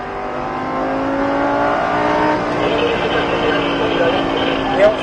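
A Lamborghini Gallardo LP 560-4 accelerates hard on a racetrack, its engine note climbing steadily and loud and close from inside the car, while a voice talks over it.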